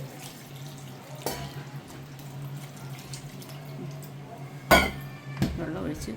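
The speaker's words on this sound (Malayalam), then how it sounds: "വെള്ളം, ആവശ്യത്തിന് വെള്ളം ഒഴിച്ച്" Water poured into a pressure cooker over a vegetable mix seasoned with turmeric, chili powder and salt for a Kerala astram dish, a steady splashing stream with a couple of sharp metallic clatters near the end.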